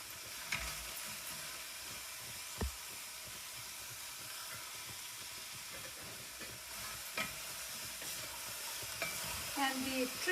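Vegetables stir-fry over high heat in a hot pan, a continuous bright hiss with occasional scraping knocks of a utensil stirring, close and fairly loud, no voices.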